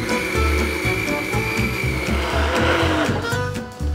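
A blender grinds a batter of rice flour, tapioca flour and egg for rempeyek kacang, giving a loud, steady motor whine with a churning, pulsing rhythm that holds continuously throughout, no talk.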